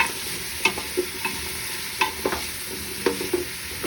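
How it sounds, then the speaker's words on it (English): Two large carrots and other vegetables sauté in oil while a spoon stirs them, giving a steady close sizzle punctuated by scattered light scrapes and taps against the pan. "now I'm going to saute that"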